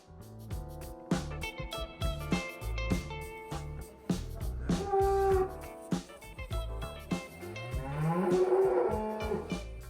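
Polish Black-and-White cattle, dairy cows and a bull, moo repeatedly on a meadow, several long low bellows following one another, some overlapping, loud and close.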